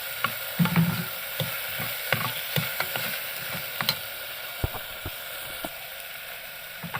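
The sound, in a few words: stirring chopped tomato into frying onions and green chilli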